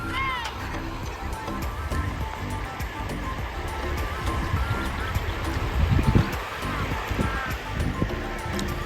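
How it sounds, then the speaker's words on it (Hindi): A swollen, muddy river after rain, with streams pouring in from every side, rushes steadily and close by, forming a continuous broad roar under people talking. "बहुत बड़ा हो गया वैसे नदी तो, हर जगह से मतलब धाराएं बह रही है"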